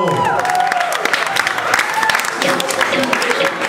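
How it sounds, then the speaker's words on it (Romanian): An audience in a bistro applauds during a live music performance, steady clapping from a crowd close by, with voices and a few tones mixed in. "Aplauze pentru Dani, zis comisarul, clăparul nostru."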